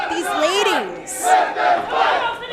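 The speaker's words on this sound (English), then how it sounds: "The crowd chanting, "Let them fight."" A wrestling crowd at a live event chants loudly and rhythmically, a dense wall of voices rising and falling in repeated phrases over about two and a half seconds, with a brief shrill cheer cutting through.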